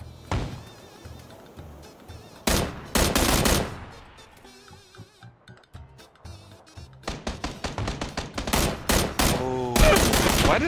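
Bursts of automatic gunfire in the battle royale game PUBG, played on the Miramar desert map on Xbox One, come in several loud volleys and rapid rattling strings of shots, with quieter thuds and a player's voice in between.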